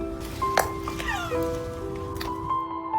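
A stray cat in a deserted redevelopment neighbourhood meows a few times amid a steady background hum, the calls medium-loud with a drawn-out, wavering tone.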